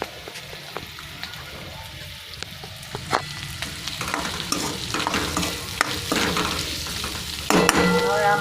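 Potato curry is stirred in a hot frying pan, with a spoon scraping and clacking irregularly over a steady sizzle that grows busier and louder toward the end.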